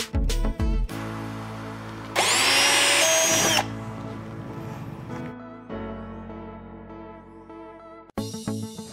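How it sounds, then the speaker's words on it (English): A power drill whirs in a loud burst for about a second and a half, with quieter motor hum and clunks before and after. "when you start actually drilling down"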